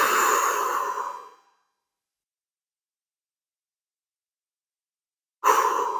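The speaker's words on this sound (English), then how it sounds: "Nice deep breaths." Deep breathing during a seated hip stretch: a long, close exhale that tapers into silence, then the next breath begins after a pause of several seconds.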